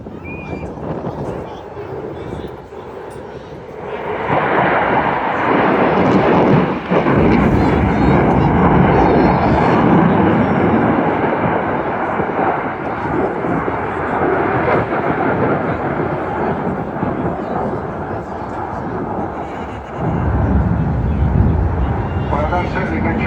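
A Eurofighter Typhoon airshow display on afterburner roars in as a loud, sustained thunderous blast of jet noise, swelling after a quieter start and staying heavy and continuous with a brief surge near the end.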